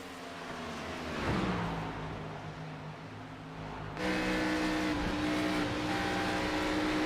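Race car engines in a sim racing game on a salt flat course, droning steadily with rising and falling revs as a driver lifts on and off the throttle, growing louder partway through with several cars close together.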